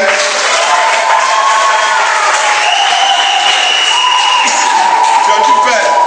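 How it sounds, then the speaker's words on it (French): An audience applauds and cheers at a gathering of NGOs and neighborhood committees, with continuous loud clapping and crowd noise throughout, and voices carrying over the top. "Mes chers amis, n'applaudissez pas seulement."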